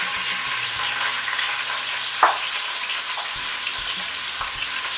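Thinly sliced onions, a whole pound of them, sizzle steadily in a hot pan while cooking Belgian-style chicken carbonnade, with a loud continuous fry hiss broken by a few soft stirring knocks and scrapes.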